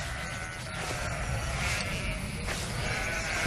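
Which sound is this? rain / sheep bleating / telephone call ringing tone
sheep bleating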